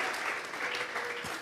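A church congregation claps together in praise during a worship service, a steady, moderately distant wash of palms that fades slightly toward the end.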